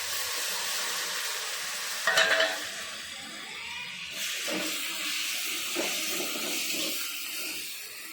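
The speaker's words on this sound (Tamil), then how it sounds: "புதினாவை சேர்த்து வதக்க போகிறோம்" Fresh coriander and mint leaves sautéing in a hot pan for biryani, a steady close sizzle and hiss with a few brief stirring scrapes over it, no talking.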